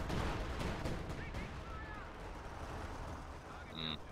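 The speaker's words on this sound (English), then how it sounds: "I hear artillery coming down somewhere." Artillery fire in the video game Company of Heroes 2: repeated booming impacts and a thick low rumble, loudest at the start and fading to a steady background rumble, with a voice talking over it.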